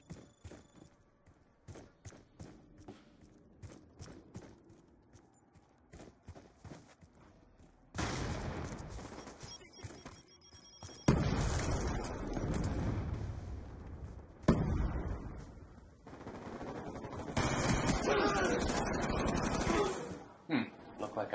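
Gunfire during a team deathmatch in Call of Duty Black Ops II, scattered single shots at first, then loud sustained bursts and heavy blasts, with voices talking over parts of it.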